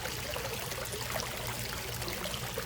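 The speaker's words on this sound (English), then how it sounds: "you can see the water pressure, right? Water pressure comes out from two sides" Water rushing steadily from a Garvee handheld pool vacuum running at full power, a continuous broadband gush with no pauses, close and fairly loud.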